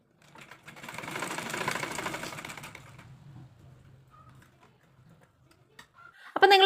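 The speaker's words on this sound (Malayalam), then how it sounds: "ഈ ഒരു ലൈൻ വരെ നമുക്കൊന്ന് സ്റ്റിച്ച് ചെയ്ത് നിർത്താം" A sewing machine runs steadily while stitching a cigarette pant seam, a dense whirring burst for about three seconds that slows and fades, followed by a sharp clatter at the end.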